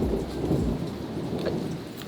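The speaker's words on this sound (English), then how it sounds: "A thunder. We're in the middle of the Dominican Republic, a lot of thunders." Thunder rumbles low and heavy through a storm in the Dominican Republic, under a continuous wash of falling rain, with no voices.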